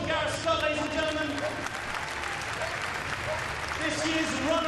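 Steady, dense applause from an outdoor crowd at an RAF police dog display, sustained at an even level with faint voices mixed underneath.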